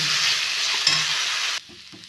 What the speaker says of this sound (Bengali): এটা একটু কষিয়ে নেব।